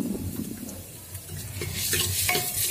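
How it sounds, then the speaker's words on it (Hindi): Millet daliya with salt, chilli and turmeric being stirred and roasted in ghee in a pan, a soft scraping stir over a low steady sizzle with a few spoon clinks, close and without talk. "कुछ सेकंड के लिए एक बार फिर से चला लेते हैं इसको अच्छे से, ताकि जो हमारे मसाले हैं वो भी भून जाएं घी के साथ"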